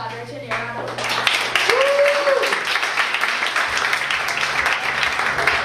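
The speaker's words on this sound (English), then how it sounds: "So give Baratunde a round of applause." An audience at a Dickinson College comedy show bursts into applause for comedian Baratunde, dense clapping rising quickly after a spoken line and sustaining steadily, with voices and cheers mixed in.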